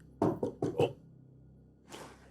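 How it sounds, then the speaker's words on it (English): Four quick knocks land on a front door, firm and close, followed by a pause and then a faint shuffling noise. "Reckon we should knock."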